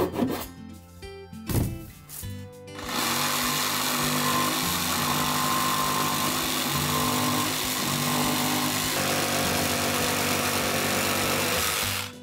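A jigsaw cuts through ashwood for a stairwell study desk, buzzing in a steady, loud, continuous rasp after a few seconds of quieter handling noise at the start.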